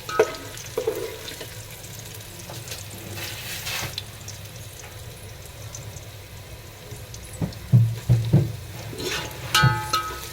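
Onions fry in oil for chicken biryani, a low steady sizzle running throughout with occasional louder scrapes and clatters of stirring near the end.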